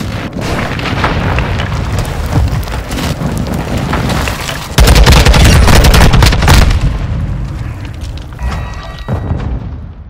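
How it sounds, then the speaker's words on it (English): Airstrike in Call of Duty: Modern Warfare 2, heavy booming explosions over continuous gunfire and battlefield rumble, with a sudden louder blast midway that rolls on before tapering off. "Airstrike near your location."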